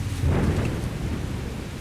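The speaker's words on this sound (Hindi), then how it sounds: "अचानक तेज बारिश शुरू हो गई और बादल गरजने के साथ साथ बिजली भी चमकने लगी।" Heavy rain pours steadily while a deep, rumbling roll of thunder swells early on and then fades into the downpour.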